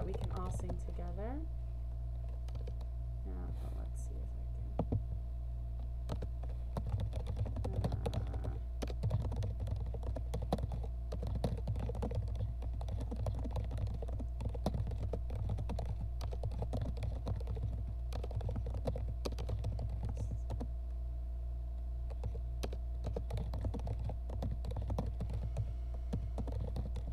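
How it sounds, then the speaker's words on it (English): Quiet keystrokes on a computer keyboard tap in an irregular stream during a pause in an online singing session, set over a steady low hum from the room. "Sound of typing."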